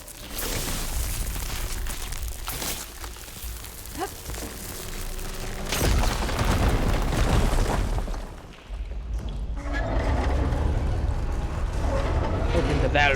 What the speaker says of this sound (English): Explodey.